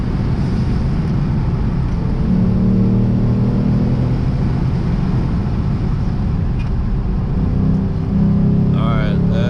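A Lexus RC F V8 engine hums and rumbles from inside the moving car, swelling into louder revving surges a couple of times, with a voice talking briefly near the end.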